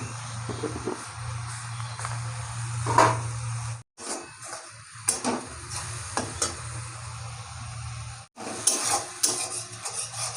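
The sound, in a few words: stir-frying spice paste in a pan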